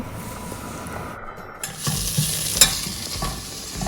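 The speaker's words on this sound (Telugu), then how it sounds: "గుప్పెడు కొత్తిమీర గుప్పెడు పుదీనా వేసుకుని ఫ్రై చేసుకుందాం కట్ చేసి పెట్టుకున్న కొబ్బరి పలుకులు కూడా వేసుకొని ఒక నిమిషం ఫ్రై చేసుకుందాం" Coriander, mint and coconut pieces fry in a hot pan for Chettinad chicken masala, a steady close sizzle with scraping stirs and a few sharper clinks of the spoon against the pan.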